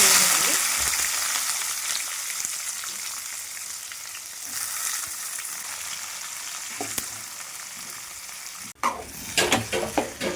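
Urad dal frying in a pan, a steady bright sizzle that fades gradually, followed near the end by several clinks and scrapes of stirring.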